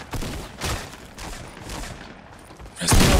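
Gunfire in the Fortnite video game, a burst of bright shots early on and a louder volley near the end, with excited players shouting over the action.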